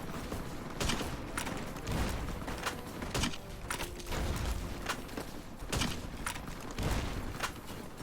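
Explosions in the video game Fallout: New Vegas, a rapid series of booming blasts and crackling bursts every second or so over a dense, steady rumble, with no talk.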